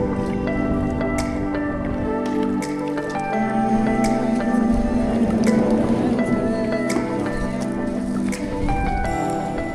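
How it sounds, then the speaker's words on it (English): Volcanic water and gases bubble up through a Hokkaido lake, giving steady wet gurgling, dripping and popping close by, over a continuous background of flowing water. "there are various spots like this where water and gases literally boil up from beneath the surface of the earth"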